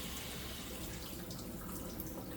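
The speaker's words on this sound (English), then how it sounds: "So I'm gonna use a 1 cup measurement, and I'm gonna put just regular water." Ordinary tap water poured into a one-cup measuring cup, a steady soft splashing trickle close by, continuous and fairly quiet with no talking.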